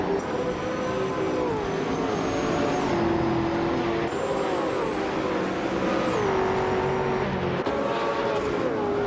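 Race cars in a video game, among them a 1996 Porsche 911 GT1, roar in a vintage race at Imola. Engines scream at high pitch with repeated gear shifts, loud and constant from start to finish.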